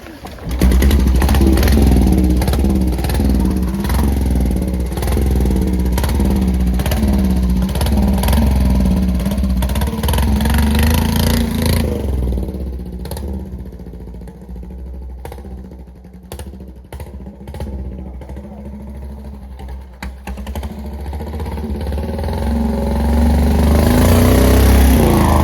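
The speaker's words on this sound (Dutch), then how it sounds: "De motor start, als de nieuwe carburetteur erop zit" Prewar BSA W34-10 500 cc SuperSport motorcycle engine, fitted with a new carburettor, runs loud and close with a pulsing idle rhythm. It eases down in the middle, then swells again toward the end.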